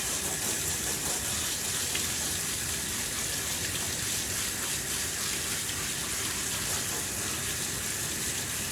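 Running water rinses a dog during grooming, a constant close spray and splash from a hose or tap that stays steady and fairly loud throughout.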